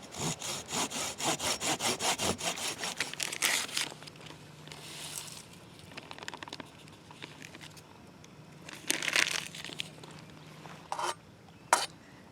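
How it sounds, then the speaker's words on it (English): A Silky folding saw cuts through wood at an overnight kayak campsite to carve a fork. Quick, loud, rhythmic back-and-forth strokes run for a few seconds, followed by quieter scraping and a few sharp handling knocks. "Silky saws are great for spaghetti."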